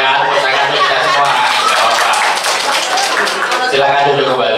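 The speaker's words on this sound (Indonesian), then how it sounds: "tepuk tangan untuk kita semua" Group of people clapping together at an emergency response and firefighting training session, a dense steady patter of many hands filling the room, with some voices and light laughter mixed in.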